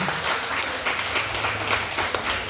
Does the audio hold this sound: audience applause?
yes